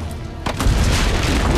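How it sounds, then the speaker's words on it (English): A cannon on a fortress rampart fires in Assassin's Creed, a single loud, close boom that rolls into a sustained low rumble. "Use the cannons above the rampart."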